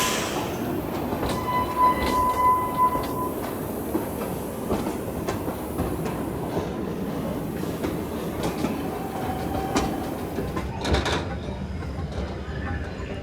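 A roller coaster train runs along its track at Blackpool Pleasure Beach, giving a steady rumbling roar with rhythmic clacks and a few metallic squeals, close and continuous for over ten seconds.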